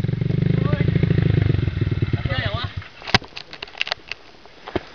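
A motorcycle engine revs loudly and pulls away, its steady rumble fading over about three seconds, followed by scattered clatter and knocks, with people talking nearby.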